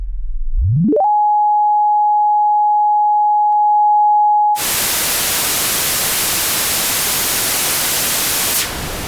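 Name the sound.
pink and white noise test signal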